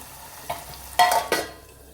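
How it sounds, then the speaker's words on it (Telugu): Ginger garlic paste frying in a pan, heard as a few brief sizzling and stirring bursts, with short scrapes near the middle and a louder crackle toward the end of a quiet stretch. "అల్లం వెల్లుల్లి పేస్ట్ని అయితే వేపుకోవాలి ఇలా మంచిగా వేపుకోవాలి"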